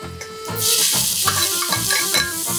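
Oil crackles into a loud sizzle as onions hit a hot pot, followed by stirring and light scraping under the steady frying hiss.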